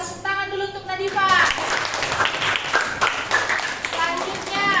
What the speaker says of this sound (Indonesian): tepuk tangan dulu untuk Nadifa.